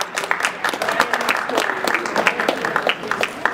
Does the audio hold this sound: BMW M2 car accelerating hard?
no